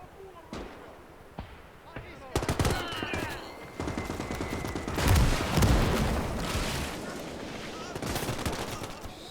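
A Maxim machine gun in the Finnish campaign of Gates of Hell, a WWII strategy game, fires in sustained bursts of rapid shots. Scattered gunfire and a few booms come before it, and the shooting continues to the end.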